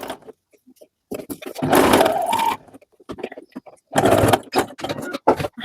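A sewing machine stitches a women's vest in two loud, whirring runs separated by handling clicks and quiet pauses, close up, with no talk over the motor.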